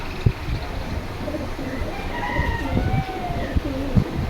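Pigeons at the Jinjira Bazar pigeon market in Keraniganj, Dhaka, coo softly in low, repeated murmurs amid background market noise, with someone talking over them.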